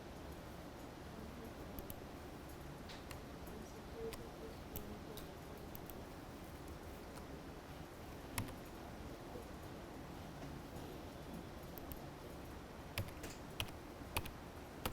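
Typing on a computer keyboard at a desk, faint scattered key clicks with a few sharper taps in a quiet room.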